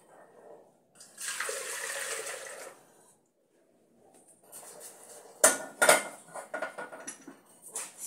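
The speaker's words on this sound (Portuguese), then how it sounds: "Água da torneira mesmo que eu tô usando pra poder fazer o amaciante." Tap water runs into a cooking pot, a steady splashing pour for a couple of seconds, followed after a pause by metallic clanks and rattles of the pot being handled.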